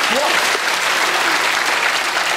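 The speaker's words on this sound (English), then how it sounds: "That's worth a round of applause." A studio audience at a comedy news show breaks into loud, sustained applause that fills the whole stretch evenly.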